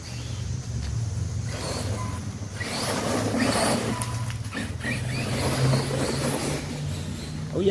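An Arrma Kraton 4S V2 RC car with a failing steering servo drives nearby, its electric motor a steady whine and rumble that swells and fades as it moves over rough ground, with no voices.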